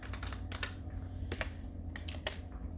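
Keys clack on a computer keyboard in short irregular bursts of quick taps, close and fairly quiet over a low steady hum, without speech.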